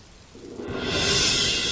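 Rain swells in from near silence into a steady, dense hiss that holds loud and even to the end.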